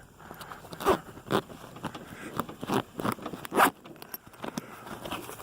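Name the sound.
zipper being unzipped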